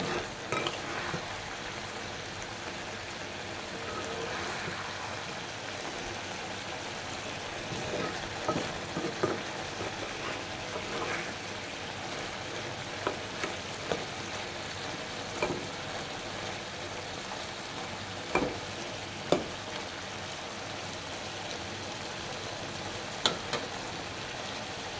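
Mashed pangas fish bharta sizzles and fries steadily in a pan, with a constant crackling hiss broken by scattered clinks and scrapes of a spoon stirring against the metal.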